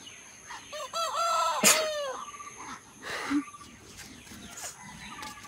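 Chickens cluck and a rooster crows outdoors at moderate distance, with other faint birds in the background and no talking.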